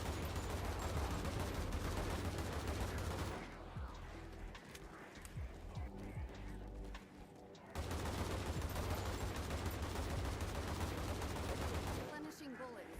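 Gunfire in the Undead Blocks zombie shooter video game comes as dense, loud stretches of rapid shooting broken by a quieter gap with scattered sounds.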